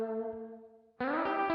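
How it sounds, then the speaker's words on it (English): A convolution room reverb from IK Multimedia MixBox rings out on a sustained harmonic tone that slowly decays, then a second, brighter chord enters loudly with repeated note attacks and a lingering room tail, with no talk. "This is a convolution reverb using impulse responses."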